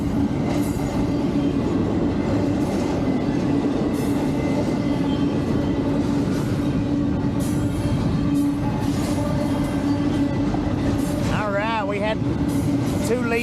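A Union Pacific freight train rolls past in Sierra Blanca, Texas, a loud continuous rumble of rail cars and wheel noise heard from close by, with a brief squealing tone near the end.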